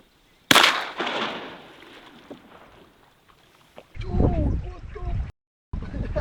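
Shotgun blast while duck hunting from a kayak on a public-land slough, one sharp loud report with a brief echoing tail, followed by quieter rustling and excited voices close by.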